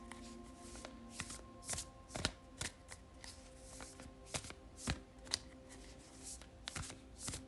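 Tarot cards being shuffled by hand, a close, quiet series of soft riffling and tapping bursts at an irregular pace, with no talking.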